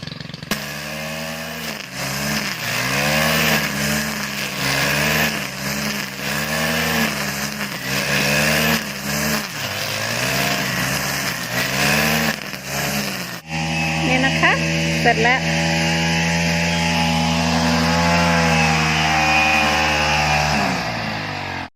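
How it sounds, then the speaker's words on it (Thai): A motorized grass trimmer cuts grass with a continuous, loud, buzzing engine whine that rises and falls in pitch as the load changes, then settles into a steadier drone partway through. "มาตัดหญ้าแถวนี้ เช้าวันใหม่แล้ว มา เข้าสวนต่อ อันนี้ ใช้เครื่องตัดนะคะ"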